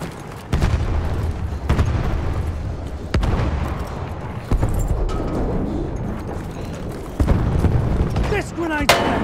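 Battlefield 1 battle with a thrown grenade, repeated deep booms and blasts of gunfire and explosions rolling through the scene, loud and close, with distant shouting voices mixed in.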